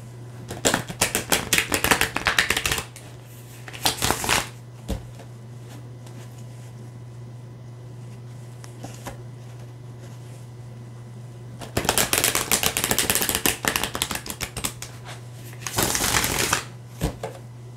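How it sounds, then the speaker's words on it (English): A deck of tarot cards is riffled and shuffled up close in two separate bouts of rapid, crisp fluttering, with quiet pauses in between and a steady low hum underneath. "I'm just going to shuffle two more times."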